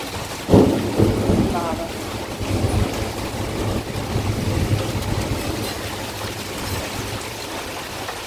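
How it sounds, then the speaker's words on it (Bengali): Heavy rain pouring down during a storm, with a deep rumble of thunder near the start and a dense, steady roar of rain on surfaces throughout. "পুরো অন্ধকার হয়ে গেছে, বৃষ্টি নেমেছে, একদম ঝমঝমিয়ে বৃষ্টি হচ্ছে।"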